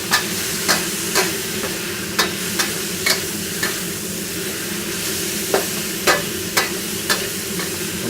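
Broccoli sizzles in a hot frying pan for a Thai rard nah noodle stir-fry, a steady loud hiss broken by repeated sharp clicks and taps of stirring utensils, with no talking.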